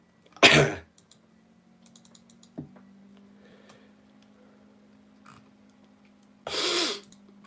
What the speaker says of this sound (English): apologies if I keep sniffling and if I keep coughing